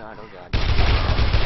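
A gun in the video game Dead Island opens fire: after a quiet moment, dense rapid automatic shots burst in and continue loudly to the end.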